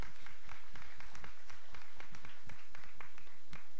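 An audience applauds after a dance group's stage performance at a youth culture festival contest, with steady close clapping that carries a dull thumping quality, continuing throughout.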